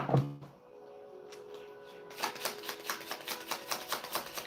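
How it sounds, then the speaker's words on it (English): A tarot deck being shuffled during a live card reading: after a faint opening thump, a rapid run of crisp riffling card clicks builds, close and fairly quiet, with no voice over it. "but let me just give this a shuffle."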